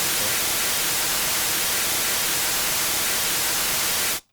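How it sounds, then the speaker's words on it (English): Loud, steady hiss of white noise from a test generator fills everything, unchanging, then cuts off abruptly to silence at the end. "the white noise channel underneath"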